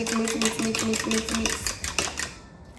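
A fork beats eggs in a bowl in quick, rhythmic clinking strokes, a steady run of close metallic taps that slows and stops near the end.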